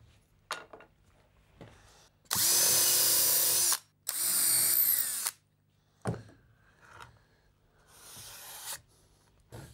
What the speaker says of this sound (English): we just want to pre-drill a hole so it aims about the centre of each one of these tongue and groove boards